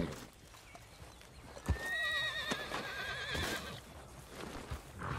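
Horse in the video game Red Dead Redemption gives a clear whinny with a wavering, trailing neigh, alongside a few hoof clops, moderately close and alone.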